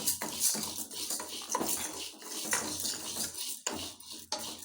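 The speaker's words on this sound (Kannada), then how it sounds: "ಹೆಸರು ಬೇಳೆನ ಬಿಸಿ ಮಾಡ್ಕೊತಾ ಇದ್ದೀನಿ ಒಂದು ಸ್ವಲ್ಪ ಹುರ್ಕೋತೀನಿ" Moong dal being dry-roasted in a pan over low flame, with a spoon scraping and clinking against the metal in irregular, fairly quiet strokes.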